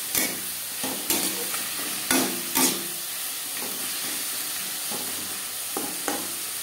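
Fish curry spices for katla kalia, with tomato, ginger and green chilli paste, sizzle steadily in oil in a pan while a spoon stirs and scrapes in several close, sharp bursts, with no talking.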